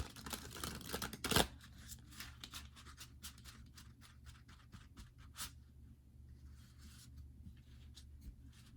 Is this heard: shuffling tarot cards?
yes